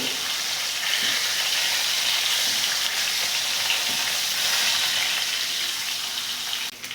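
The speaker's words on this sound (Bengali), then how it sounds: "মাছগুলো দিয়ে ভেজে নেবো এপিট ওপিট করে মাছগুলো খুব ভালো করে ভাজবো" Koi fish fry in a hot pan with oil, giving a steady, close sizzle and crackle that holds evenly throughout with no talking.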